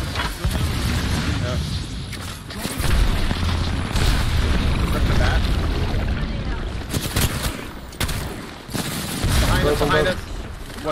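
Combat in the Apex Legends video game, with repeated booming blasts and bursts of gunfire that fill the scene loudly and continuously, punctuated by sharp impacts, under excited player voices talking over the action.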